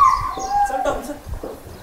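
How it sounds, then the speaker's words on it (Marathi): Dogs at a large dog-boarding home in Pune play together, giving short whimpers, yips and whines up close, with some background voice-like noise mixed in. "खेळत आहेत आता ते डॉग।"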